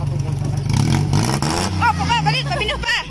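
A vehicle engine revs and strains while climbing a steep farm road, loud and close, the pitch rising and falling under excited voices talking over it.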